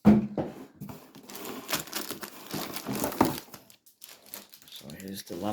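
Crinkling and rustling of packing paper while unboxing a Dell Latitude 5510 laptop, close and irregular with bursts of crumpling and tearing, and a voice talking over parts of it.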